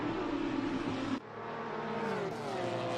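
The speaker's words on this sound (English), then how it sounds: "I thought I heard a Cup car engine." A Cup racing car engine in a video game race at Silverstone whines at high revs, cuts off abruptly, then builds again with rising pitch, fairly faint and distant.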